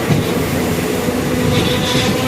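The Madurai–Coimbatore Intercity Express rumbles loudly and steadily as a train in motion, with a dense, continuous roar of rolling wheels and carriage noise and no talk over it.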